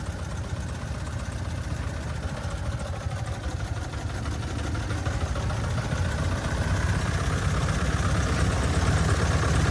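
The engine of a 1909 Sears and Roebuck high wheeler runs steadily while the car is being driven, a constant rough low putter that grows slightly louder over about ten seconds, with no voices.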